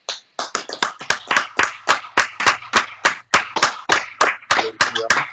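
A church congregation claps in a steady, rhythmic beat of sharp, close handclaps, one after another with no pauses.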